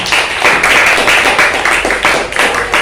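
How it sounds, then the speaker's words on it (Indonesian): A classroom of students applauds a good question, several bursts of dense, bright clapping from many hands, loud and close, swelling and easing in waves with no talk over it. "Tepuk tangan untuk pertanyaannya."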